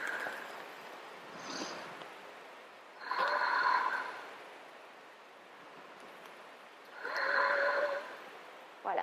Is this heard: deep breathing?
yes